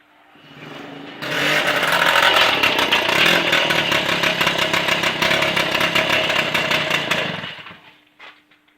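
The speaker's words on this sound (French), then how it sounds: "pour procéder au premier démarrage de la MBK51" Small two-stroke engine of an MBK 51 moped fires up and runs with a loud, buzzing, rattly idle for about six seconds close by, then cuts out abruptly.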